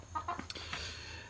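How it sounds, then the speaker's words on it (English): Chicken clucking nearby on a porch, a few short clucks in quick succession, faint and soft against quiet background noise. "We're being photobombed by a chicken."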